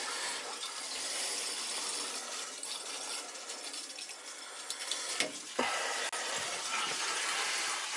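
Water flushes through the pipes of a three-zone hydronic heating system before antifreeze is added: a steady, close rushing hiss with a few sharp metallic clinks and gurgles, and no talking.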